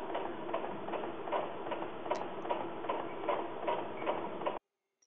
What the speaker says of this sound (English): select your buttonhole and start sewing your buttonholes in the location that you marked before